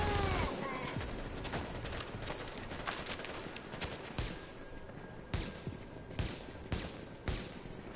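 Game gunfire in The Division rings out as sharp, scattered shots and short bursts, some louder and nearer, over a busy backdrop of ambient noise and game effects.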